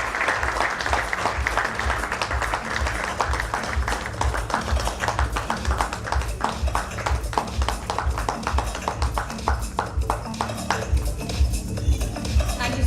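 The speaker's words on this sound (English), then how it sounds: "Let's give him a huge round of applause as he joins us on the stage" A seated crowd at a corporate stage function applauds steadily for a managing director walking onstage, producing a long, dense, even patter of clapping over a low, steady musical hum.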